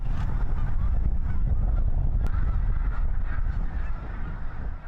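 Many snow geese honk at once in a dense, continuous chorus, a loud wall of overlapping calls from a large flock in the Lehigh Valley.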